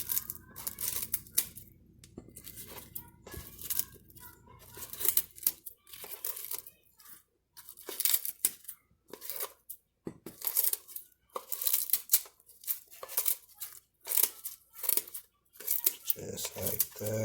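Knife cutting rinsed ingredients in half for a natural cough and cold tea, a steady run of short crisp chopping and slicing sounds on a board, close up, with a voice talking over parts of it.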